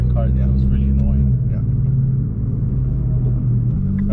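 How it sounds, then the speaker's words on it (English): A loud, low engine rumble from inside a race car, droning steadily with shifts in pitch as the exhaust note changes, with a voice faintly underneath. "the exhaust in here is quite loud"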